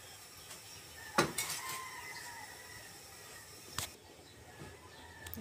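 Banana heart being washed in a bowl, with a few sharp clinks of dishes and utensils over a quiet background of faint kitchen noise and handling.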